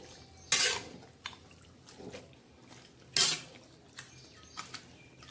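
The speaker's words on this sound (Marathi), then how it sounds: "हे बघा आता चिकनला असं छान असं हलवून घ्यायचं" A utensil stirs chicken in a cooking pot, making a few sharp metallic scrapes and clinks spaced out over a few seconds, with quiet, faintly bubbling gaps between them.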